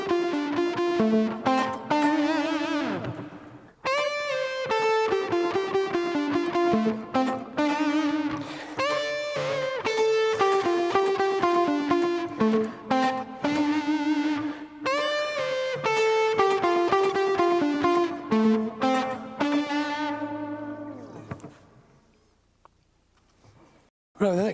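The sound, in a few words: electric guitar playing a riff with distortion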